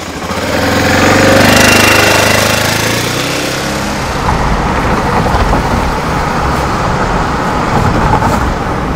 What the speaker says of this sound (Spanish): qué se siente al cruzar un puente como ese en una moto como esta